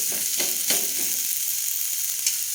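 A ragi uttapam made from dosa batter topped with ragi flour fries in butter on a pan, giving a steady, close sizzle with a few sharper crackles and no voices.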